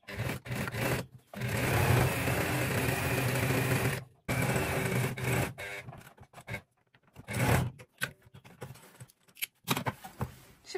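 A sewing machine stitches a zippered bag lining, running in close, loud bursts of rapid whirring separated by brief pauses, with shorter stop-start runs toward the end.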